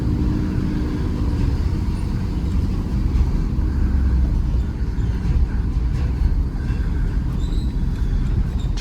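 Steady low engine rumble and road noise from inside a vehicle towing a trailer as it turns around, continuous and fairly loud throughout.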